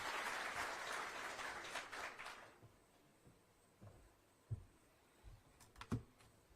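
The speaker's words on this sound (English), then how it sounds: "We can welcome her with a clap." Audience clapping at a formal Kenyan government event in a hall, a soft, distant patter of applause for a few seconds that fades out, followed by scattered knocks and shuffling.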